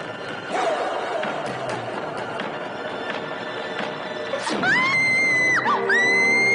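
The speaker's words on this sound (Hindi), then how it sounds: "तुम भी कमाल का चीखती हो" A woman screams in a Hindi horror TV episode, a sharp, loud, high cry rising and breaking off, then resuming, following a stretch of clattering commotion and background noise.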